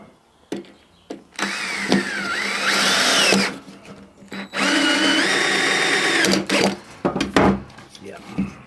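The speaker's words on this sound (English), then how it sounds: "So I'm awfully satisfied about putting screws in with a cordless drill." A cordless drill drives screws into wood while building a foundry cope and drag, with two long whirring bursts that each rise in pitch, separated by short clicks and handling knocks, heard up close.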